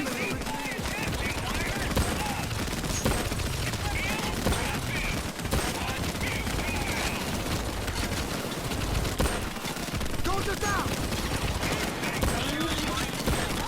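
Dense, continuous gunfire from a loud heist in the video game Payday 2 fills the whole stretch, with overlapping rapid shots and chaotic combat noise and no quiet gaps.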